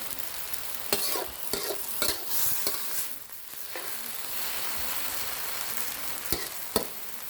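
Chicken with ginger and oyster sauce is stir-fried in a pan with a continuous close sizzle, punctuated by sharp scrapes and clacks of the utensil against the pan, with no talking.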